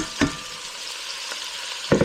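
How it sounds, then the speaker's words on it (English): Chopped vegetables sizzle and crackle steadily in hot oil and butter in a pan, with a couple of louder bursts as more sizzling flares up. "And as you can tell, it's sizzling."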